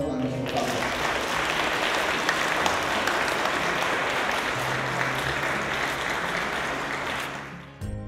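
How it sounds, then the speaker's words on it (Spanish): Applause for Pope Francis at a vigil in Peru, a dense, sustained crowd clapping that holds steady for several seconds before cutting off, with voices mixed in. "Un aplauso a nuestro Papa."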